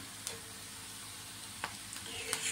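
Poha being stirred and mixed in a pan, with faint scraping strokes over a low sizzle. A few brief louder scrapes stand out, and no one speaks.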